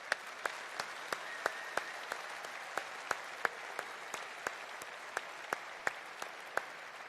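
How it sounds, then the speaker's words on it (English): Rally crowd in London applauding at a Reform UK event, a steady bed of massed clapping with sharp individual claps standing out close by at a regular beat throughout. "Let's give everyone who's applied a round of applause."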